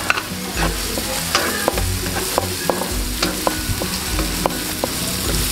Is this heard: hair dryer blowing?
no